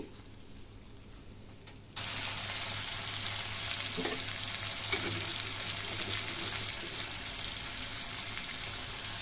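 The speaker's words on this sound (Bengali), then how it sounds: "ইলিশটা ম্যারিনেশন করার সময় আমি যে মশলাটা নিয়েছিলাম সেই মশলাটা হালকা একটু কষিয়ে নেব" Hilsa marinade spice paste frying in oil for ilish polao, a steady loud sizzle that jumps up after a quieter opening and holds throughout, with a faint stir or tap midway.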